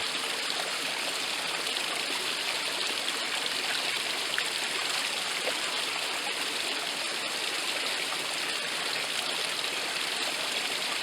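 A forest stream rushes in a steady, even wash of flowing water nearby, constant with no pauses and no voices.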